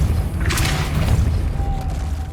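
A Depulso spell cast in the video game Hogwarts Legacy lands as a single broad whooshing burst with a low boom, over a steady low rumble of game ambience.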